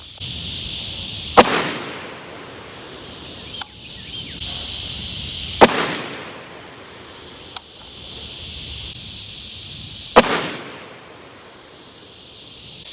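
Outdoor rifle fire from a 6.5 Creedmoor loaded with Hornady ELDM factory ammunition: four sharp, loud cracks spaced a few seconds apart, each trailing a brief rolling echo over a steady hiss of background noise.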